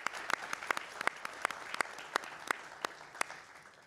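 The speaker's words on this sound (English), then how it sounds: "Go ahead and clap for them" Sparse audience applause at a cosmetology hair competition, with a small number of distinct, separated claps spread steadily across the clip at modest volume.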